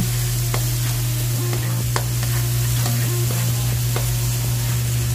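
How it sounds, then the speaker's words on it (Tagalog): An onion fries and sizzles in a pan as it is stirred, with a steady loud sizzle and several sharp scraping stirs throughout. "Next natin ilalagay dyan yung ating onion. Medyo papulahin lang natin ng konti, huwag natin masyadong sunugin."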